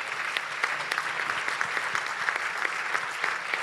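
Dense audience applause breaks out at a Coldiretti farmers' association event in Italy, a steady wash of many hands clapping with a few sharper claps standing out, sustained throughout.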